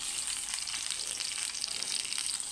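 Chopped onion sizzles steadily in hot oil in a pan with browned chili, garlic, nigella seeds and bay leaf, a bright continuous crackle with no talking.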